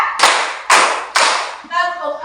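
A classroom of students claps together in a counted rhythm: three sharp, loud unison claps evenly spaced, followed by a voice speaking.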